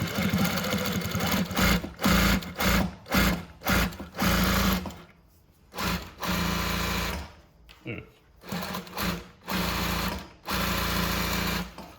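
A Vinlex VX-1530-DD zigzag leather sewing machine runs at full speed in loud, rapid bursts of stitching, starting and stopping repeatedly, with short pauses between runs.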